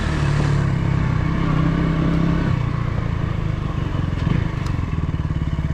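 A KTM Duke 200 motorcycle rides over loose sand and mud, its engine droning loud and close without a break, with faint rattles and a slight swell in revs near the end.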